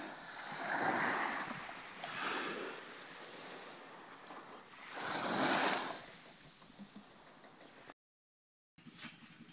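Gentle waves wash in on a calm sea at the shore in Barangay Bucana, Batangas, three soft surges a few seconds apart, with wind rumbling on the microphone.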